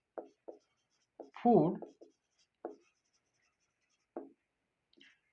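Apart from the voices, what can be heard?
writing by hand for a biology lesson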